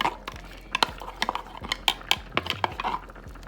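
A spoon scrapes and clinks against a pot while flour and broth are stirred together for chicken and dumplings, quick uneven metallic taps and scrapes, close and clear.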